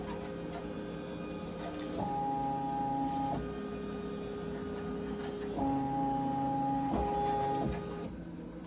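An embroidery machine traces the outline of a design on an apron, giving a steady mechanical hum with stepped motor tones and soft ticking as the frame moves in short runs.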